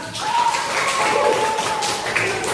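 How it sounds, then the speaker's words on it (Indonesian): Children in a fourth-grade classroom clap for a group, a dense, steady patter of small hands close by with faint voices mixed in. "Oke, tepuk tangan untuk kelompok 5"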